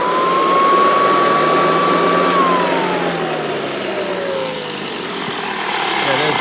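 An antique Hoover vacuum cleaner motor runs steadily and loud, its whine holding a pitch before sliding gradually lower, with a broadband airy roar underneath throughout.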